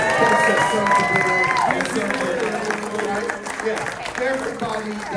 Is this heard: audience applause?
yes